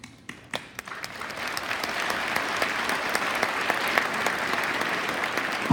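Graduation audience applauding at a high school ceremony in Smithsburg, a sustained wash of clapping that starts with a few scattered claps and swells into steady, dense applause throughout.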